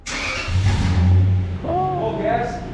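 A straight-piped car engine revs in a few loud, close bursts, with voices talking over it.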